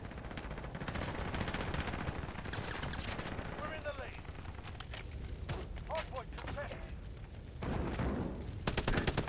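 Multiplayer gunfire in Call of Duty: Modern Warfare crackles in dense, repeated bursts and single loud shots, mixed with other busy game effects, sustained and close throughout.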